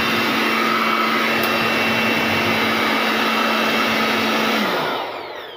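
Loud, steady roar of a cheap handheld electric air blower running continuously up close, then winding down and fading at the very end.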